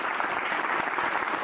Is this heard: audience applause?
yes